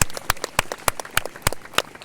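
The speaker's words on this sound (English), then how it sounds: "Give yourselves another round of applause." An audience at a Detroit Symphony Orchestra patriotic concert applauding, a scattered, fairly close patter of individual claps rather than a dense roar, lasting a couple of seconds.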